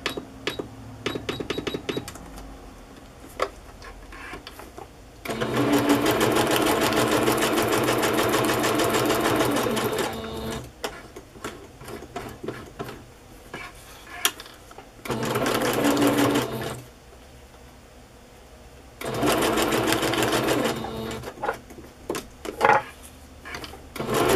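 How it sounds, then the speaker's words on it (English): A sewing machine runs a zigzag stitch around a seahorse design on fabric for a mermaid bag, in three steady whirring bursts separated by quieter pauses. "I'm going to sew around the seahorse for decorative effect too, but I will just use a zigzag stitch."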